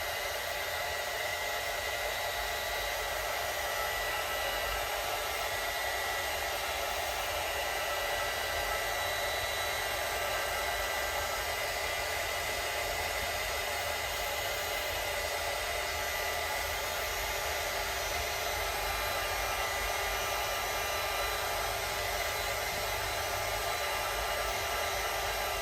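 A hair dryer blows steadily on a junk journal page, a constant loud whooshing hiss that runs unbroken from start to finish with no pauses.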